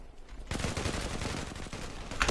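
Rapid automatic M4A1 rifle fire in the online shooter game Zula, a dense, loud burst of continuous shots that begins abruptly and runs without pause to the end.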